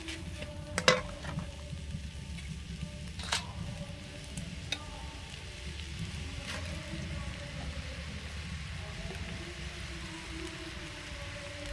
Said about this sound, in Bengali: চিংড়ি মাছটা আলাদা করে ভাজাবে, আবার একসঙ্গে দিয়ে ভাজলেও মশলার সঙ্গে সুন্দর কষানো হয়ে যাবে